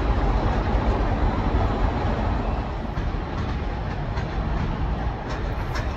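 Train noise at Gara de Nord station in Bucharest in December, a steady broadband rumble and rolling hiss that stays loud and constant throughout, with faint clicks over it.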